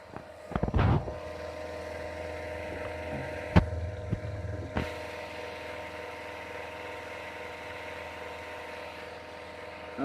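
An engine on a long run test holds steady near 5,000 RPM, giving a quiet, even tonal hum throughout, broken by a few brief knocks and clicks nearby.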